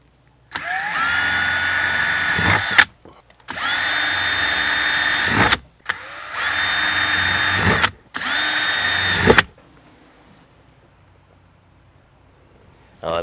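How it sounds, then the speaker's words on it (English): A power drill boring a hole whines in four strong bursts of a few seconds each, separated by short pauses, and then falls quiet. "I'm going to need to drill a hole that gets that thing right through there"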